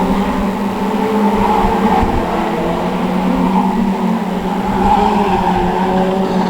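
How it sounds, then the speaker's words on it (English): Stock rod race cars circling the oval at the Cowdenbeath Racewall during a national championship race, a dense, continuous roar of several engines at mid distance with a rising and falling swell as the pack passes. "So the race leaders into the home straight, 165, 83, 216, and now Callum Falconbridge challenging 216"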